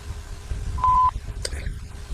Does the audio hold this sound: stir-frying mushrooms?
no